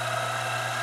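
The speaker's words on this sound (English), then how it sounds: "And then just drilling this aluminum." A King Canada KC-20VS-2 milling and drilling machine drills into aluminum with a steady, continuous mechanical whine and hum, brief and unbroken.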